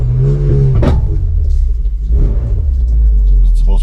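A car engine with an aftermarket exhaust rumbles deeply and revs up and down, loud and close, with a brief voice under it.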